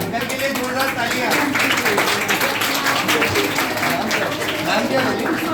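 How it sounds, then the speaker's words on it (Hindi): Loud, sustained applause from a crowd at a certificate-giving ceremony, honoring an uncle; steady, dense clapping fills the whole stretch with little variation, and a few voices mix into the noise. "अंकल के लिए जोरदार तालियां।"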